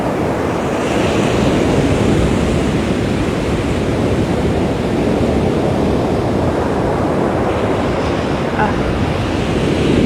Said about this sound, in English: Here comes the ocean.